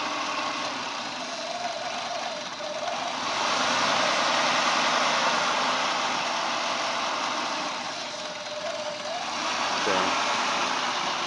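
Car engine idling during a P0401 EGR valve test, the idle sagging and stumbling twice as the valve is triggered, then recovering; steady, close, with talk over it.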